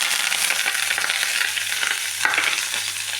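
Cumin seeds and curry leaves frying in hot oil for spicy puffed rice: a steady, close, bright sizzle that runs throughout, with one brief clatter of stirring partway through.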